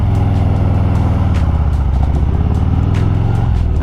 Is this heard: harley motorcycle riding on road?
yes